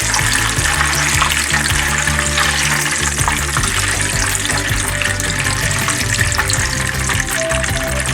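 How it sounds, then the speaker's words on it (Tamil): Curry leaves splutter and crackle in hot oil while Chicken 65 is being made. A loud, dense, steady frying hiss carries scattered sharp pops throughout. "பார்த்து போடுங்க, மேலே தெரிக்கும். போட்டு கருவேப்பிலை பொரிஞ்சதுக்கப்புறம்"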